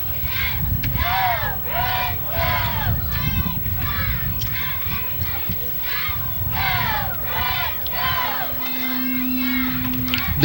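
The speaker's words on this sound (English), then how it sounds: "The Bruin cheerleading staff whipping the crowd up into a frenzy here for the PAT" A crowd at a pee wee youth football game cheers and shouts in repeated loud waves, with high children's voices rising and falling over a steady background roar.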